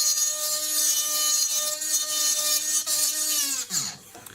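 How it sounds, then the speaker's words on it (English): A large ball burr in a rotary tool countersinks the top inside edge of a jewelry jump ring for a four-claw stud earring, giving a steady, close, high-pitched whine with a grinding tone that drops away near the end. "I'm going to get a large ball burr and just countersink the jump ring"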